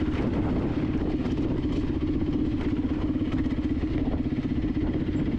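A 450 four-stroke dirt bike engine drones steadily and close on a sandy downhill mountain trail, a continuous throbbing rumble with engine braking, no talking.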